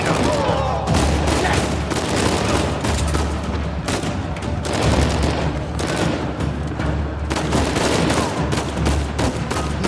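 Automatic weapons fire continuously during a jailbreak firefight in Uncharted 4, dense overlapping bursts and sustained rattling shots, loud and close throughout, with a steady low hum underneath.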